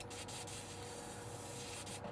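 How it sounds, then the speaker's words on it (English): An airbrush sprays Vallejo Model Air Dark Sea Grey at about 20 PSI onto a 1/48 scale Revell Junkers Ju 88 A-4 model, a faint, steady airy hiss with slight pulses, no voices. "we're going to crack on with getting some spray down"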